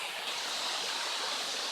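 Forest waterfall pouring steadily, a continuous broad rushing wash of water heard from a moderate distance, fairly soft and even throughout, with no voices.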